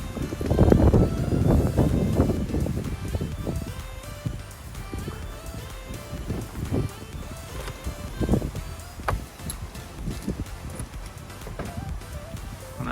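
Gusty wind buffets the microphone on a windy day, with heavy low rumbling bursts at the start that ease into quieter irregular gusts and rustling.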